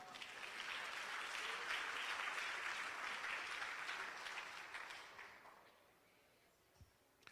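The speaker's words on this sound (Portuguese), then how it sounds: "dá um aplauso ao rei" Church congregation applauding during a Portuguese-language sermon, a dense sustained wash of clapping from a large room that fades out over the last couple of seconds, leaving near-quiet with a faint tap near the end.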